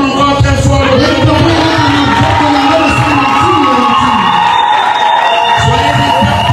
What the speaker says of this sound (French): On acclame encore très fort le Dieu.